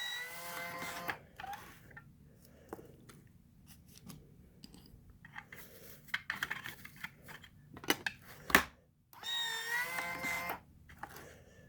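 A Powermatic 2 cigarette machine running, a close mechanical whir and clatter that rises and falls in short bursts, with sharp clicks and a louder sustained churning run near the end.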